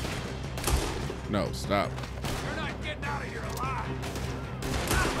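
Gunfire in the video game Red Dead Redemption 2, with repeated loud shots and bursts through a busy battle mix while a person talks over it.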